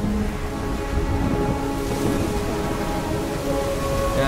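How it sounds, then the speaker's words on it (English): Steady rain and a thunderstorm in the video game Ori and the Will of the Wisps: a continuous, fairly loud hiss of falling rain with a low rumble underneath and no speech. "Storm."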